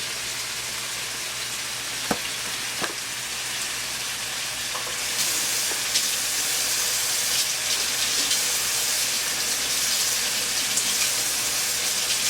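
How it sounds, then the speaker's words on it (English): Kitchen tap running while hands are rinsed, a steady broadband hiss of flowing water that swells slightly partway through, close and continuous with a faint sizzle-like texture and no talk. "I'm going to rinse my hands off"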